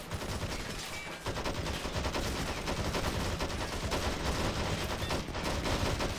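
Sustained machine gun fire in the Men of War video game during a bridge assault, a dense, loud, continuous rattle of rapid shots with a brief dip near the start before the barrage resumes.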